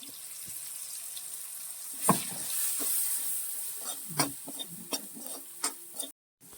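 Ground chilli spice masala for crab curry frying in a pan with a soft, steady sizzle, punctuated by close spatula scrapes and taps against the pan.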